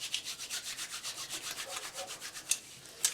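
Hands rubbed together with gritty, pine-scented Pinerite soap, a quick run of soft, rhythmic scrubbing rasps close up, with two sharper scratchy bursts near the end and no talking.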